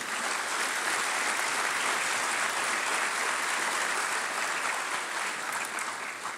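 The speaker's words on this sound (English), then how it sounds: "So let's just kind of give them a round of applause if we could." A large audience at an awards of excellence event applauds its sponsors with dense, steady clapping that stays loud and continuous throughout, trailing off slightly near the end.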